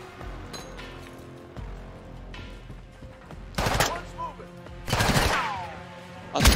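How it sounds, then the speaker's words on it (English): Gunfire in the Modern Warfare 2 campaign prison-break mission: a few scattered single shots, then loud sharp bursts around the middle and end over a busy background of game ambience. "Warning shots on this guy."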